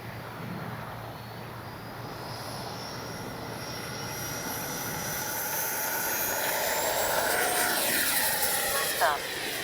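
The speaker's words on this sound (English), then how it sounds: "I'm hoping the sound of this jet comes out on the on video." A HobbyKing Viper 64 RC jet flying on a windy day, its ducted-fan whine steady and gradually swelling as it passes, with a rising whoosh near the end over wind and a faint voice.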